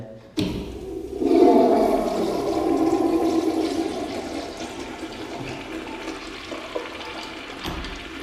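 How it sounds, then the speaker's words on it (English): Toilet flushing with a sudden start, then a loud swirling rush of water that gradually fades into a quieter refill trickle. "when we flush, it will suck down in a tornadic type fashion"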